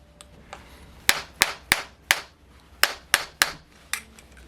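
Sharp knocks ring out as a rubber-coated tool strikes an OS 45 FSR ABN model engine part to free it, about nine crisp taps in an uneven rhythm, close and fairly loud, with no talking.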